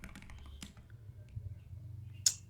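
Quick bursts of keystrokes on a computer keyboard as a command is entered, a rapid patter of soft clicks near the mic ending in one sharper tap, quiet and with no voices.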